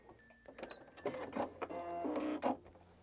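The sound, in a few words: sewing machine backstitching a lapped zip seam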